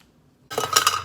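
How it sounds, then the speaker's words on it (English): A Smashbox Photo Finish primer water mist sprays onto a face at close range: one sudden hissing spray that sets in after a half-second of quiet and holds steady to the end, with no talking. "I'm going to spray my face with the Smashbox Photo Finish primer water"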